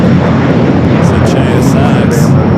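A jet aircraft roars loudly and continuously at Los Angeles LAX airport, a dense broadband engine rush while a voice talks over it.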